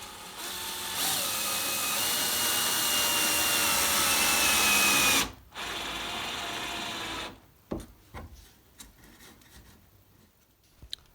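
Metal threaded inserts being screwed into a wooden model railway baseboard frame, a steady close grinding rasp of metal biting into wood that runs for about five seconds, pauses, resumes briefly, then gives way to scattered knocks and handling.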